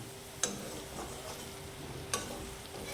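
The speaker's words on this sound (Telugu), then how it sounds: "ఇది కొంచెం లేదా ఆలుగడ్డలు కొంచెం బ్రౌన్ కలర్ వచ్చేదాకా ఫ్రై చేసుకోవాలి." Diced potatoes and green chillies fry in oil with a steady soft sizzle, broken twice by a light clink of a stirring spoon, close and fairly quiet, with no talking.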